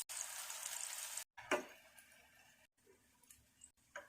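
Green chickpea pakoras frying in hot oil, a steady faint sizzle with a brief crackling burst and a few soft clicks of utensils.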